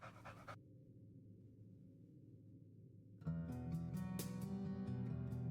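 The three-headed dog Cerberus from the video game Stray Gods pants softly and faintly, breathing quietly on its own before music swells in partway through.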